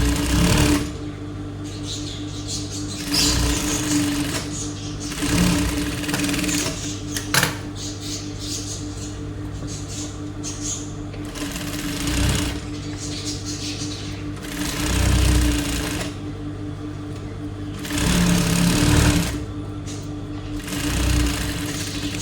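A sewing machine stitching a pillow made from waste clothes, running loud and close in several bursts with short pauses between them.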